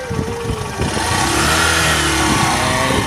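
Motorcycle engine revving as a rider sets off with a passenger, a steady loud mid-pitched drone that swells and holds, with no talk over it.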